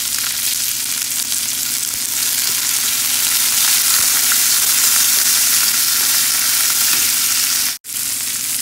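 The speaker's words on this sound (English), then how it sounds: "curry leaf and chili. Let them also fry a little." Curry leaves and chili fry steadily in hot oil with a loud, continuous sizzle, broken by a brief dropout near the end, while spinach sooji rava upma is being cooked.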